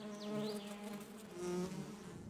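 Wild honey bees buzz around a woodpecker hole in a tall tree in a Central European forest, a faint, continuous droning hum with wavering pitch as individual bees fly close and away.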